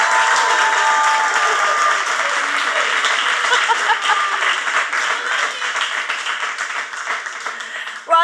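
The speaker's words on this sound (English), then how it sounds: "And would you like to give her some sweet clap here?" Audience applause at a music-industry talk show, a dense sustained clapping from a studio crowd that stays loud throughout before cutting off at the end.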